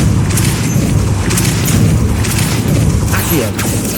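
A Depulso spell cast in Hogwarts Legacy, a loud booming force-push blast over dense, continuous game noise, with brief bursts standing out amid the clutter.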